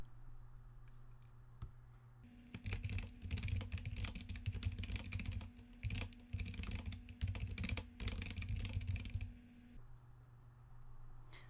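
Steady rapid clicking of keys on a computer keyboard, close and fairly quiet, running for several seconds between softer moments before and after, with no talking.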